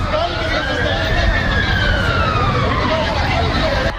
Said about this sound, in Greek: από μακριά ακούγονται και οι σιρήνες του ασθενοφόρου